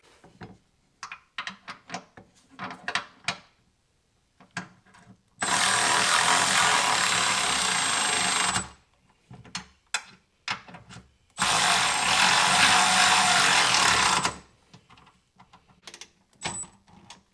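Two long bursts of a power tool tightening running board bracket bolts during an M2 Lumastep powered running board install, each lasting about three seconds, loud and close, with brief clicks and handling noises between them.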